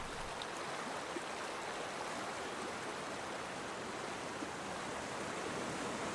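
Floodwater of a river swollen by torrential storm rain rushing continuously, a dense, steady roar of moving water with no pauses or other sounds.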